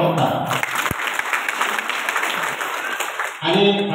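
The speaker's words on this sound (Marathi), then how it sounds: "त्या निर्णयाला आता सर्वांनी टाळ्या वाजवून त्याचं स्वागत करा" Crowd applause welcoming a village council decision at a local BJP gathering, a brisk burst of clapping framed by speech from a man briefly before and after.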